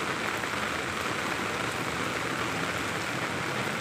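Steady rain falls outdoors in a dense, even hiss of drops on surfaces, fairly loud and unbroken, with no voices.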